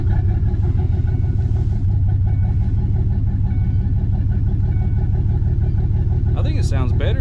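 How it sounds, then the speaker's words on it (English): A 2005 Chevy truck engine runs steadily at idle, a loud continuous low rumble throughout, with a brief higher mechanical whine near the end. "start the truck and let it run for a few minutes"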